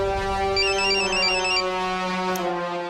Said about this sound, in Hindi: तेरे पापा का फोन, ले बात कर।